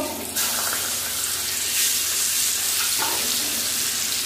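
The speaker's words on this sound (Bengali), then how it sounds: "তেল গরম হয়ে গেছে, মাছ ভেজে নেব।" Tilapia fish dropped into hot oil in a kadai, bursting into a loud, dense sizzle that continues steadily, heard close up with no talk.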